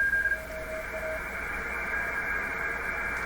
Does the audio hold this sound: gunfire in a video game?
no